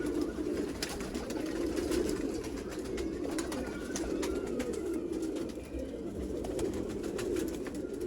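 Sialkoti flying pigeons cooing steadily at close range, a continuous low murmuring coo that runs through the whole stretch with faint chirps above it.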